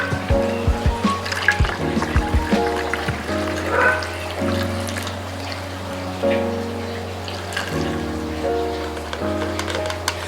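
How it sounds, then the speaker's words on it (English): Mixed tie-dye liquid pours from a container into a squeeze dye bottle, a close, steady trickle and splash with a few drips and bottle knocks at the start. "now I'm just gonna pour this into my mixing, into my dye bottle"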